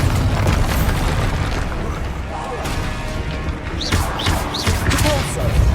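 Bombarda spell explosion in Hogwarts Legacy gameplay on PS5: loud, dense crashing booms and rumbling debris, close up, with chirpy magical flourishes and some voice mixed in.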